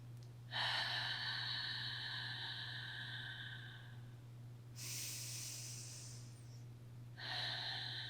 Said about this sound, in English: take 3 more deep belly breaths